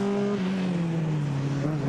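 Race car at speed on the Chateau Impney hill climb, engine note loud and close as it sweeps past the château into a roundabout, a steady sustained roar with a slightly falling pitch across the pass.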